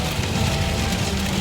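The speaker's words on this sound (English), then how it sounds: "I think the hail stopped, but it's still pouring." Heavy rain pours onto a car during a rainstorm, a dense, steady hiss of drops drumming on the vehicle's surface, close and continuous with no letup.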